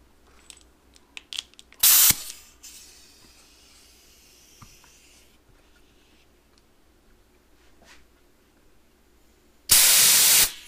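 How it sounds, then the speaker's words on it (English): Compressed air from an air compressor blasts two short bursts to free a stuck brake caliper piston on a GL650 motorcycle, loud hissing gusts separated by quiet workshop clatter. "it did come out via the air compressor"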